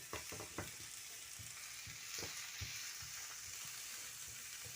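Spinach leaves being stir-fried on high heat, a faint, steady sizzle broken by repeated soft scraping and tossing strokes at an uneven rhythm.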